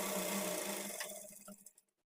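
A sewing machine runs a top-stitch along the edge of a blouse piece, its steady motor hum fading as it slows with a few last stitches before stopping into silence.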